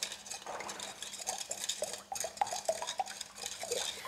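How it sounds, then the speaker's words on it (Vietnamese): A utensil stirring agar jelly mixture with sugar into water in a pan, soft continuous scraping and swishing with light clinks, fairly quiet and steady. "Mình khuấy tan ra rồi các bạn để cho cái phần rau câu này nghỉ tầm khoảng 30 phút"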